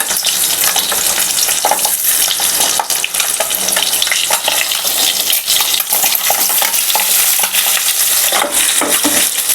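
Boiled eggs frying in hot oil in a home kitchen pan, a loud continuous crackling sizzle with dense spattering pops that never lets up, no voices over it.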